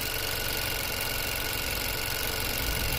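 A 2016 Chevrolet Cruze 1.4-litre engine idles with a steady, even mechanical hum and light ticking, heard close and constant with no voices, while the car runs with a P1101 airflow fault code.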